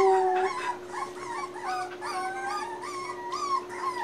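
Young puppies whimpering and howling, a continuous stream of high, wavering cries and yips from several small pups close by, with a steady background hum.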